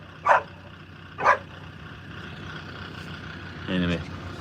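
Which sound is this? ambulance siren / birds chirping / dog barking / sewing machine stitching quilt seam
dog barking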